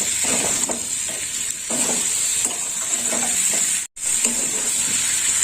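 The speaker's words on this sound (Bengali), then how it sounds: "লবণ দিয়ে একটু কষে নেব" Potato and pointed gourd curry sautéing with salt in a pan, a steady close sizzle and hiss with soft stirring scrapes, broken by one brief silent gap.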